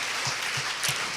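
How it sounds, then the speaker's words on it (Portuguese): Church congregation applauding during a worship service, a steady wash of clapping from many hands, muffled and fairly distant, with no speech over it. "Aplauda o Senhor mais uma vez."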